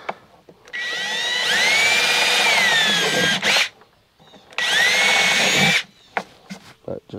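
A power drill driving screws whines in two long runs, its pitch climbing as it spins up, with brief clicks and quiet gaps between bursts, close by.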